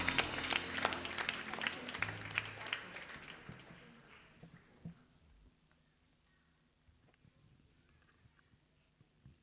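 Church congregation applauding during a bilingual Sunday service, loud clapping that fades gradually into scattered claps and near quiet.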